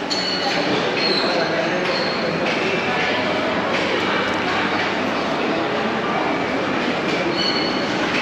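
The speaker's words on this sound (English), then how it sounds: "the train to Manacor" A train to Manacor on Mallorca rolls past with a steady loud roar and thin high wheel squeals that rise and fade, heard close up throughout with faint voices mixed in.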